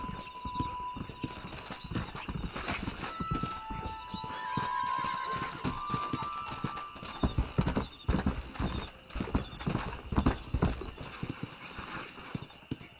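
Horse hooves gallop in rapid rhythmic clip-clop while riding in the Red Dead Redemption video game, loud and close, with a horse's whinny and faint tonal game sounds mixed in.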